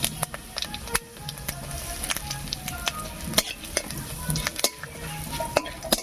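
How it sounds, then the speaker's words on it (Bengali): Dried red chillies, a bay leaf and whole cumin crackle and sizzle in hot oil in a pan, with steady close frying hiss, scattered sharp pops and a few light utensil taps, no talking. "তেল গরম হয়ে গেছে এবারে তেলের মধ্যে দেব দুটো শুকনো লঙ্কা একটা তেজপাতা সামান্য একটু গোটা জিরা"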